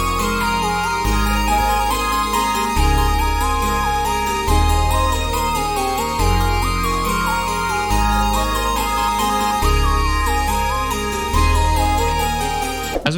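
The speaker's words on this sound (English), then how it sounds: "so the full melody should sound like this." A full pluggnb-style beat melody with guitar and piano layers plays steadily over a deep repeating bass pattern, loud and continuous with no voices.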